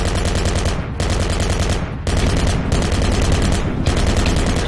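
Automatic gunfire in a video game hammers at a vehicle in long, dense, continuous bursts, loud and close, broken by very brief pauses about once a second.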